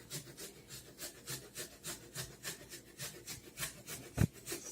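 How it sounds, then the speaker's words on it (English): Fresh ginger rubbed against a grater in steady, rhythmic scraping strokes, about three per second, close and quiet with a soft knock near the end. "whether you want to grate the ginger"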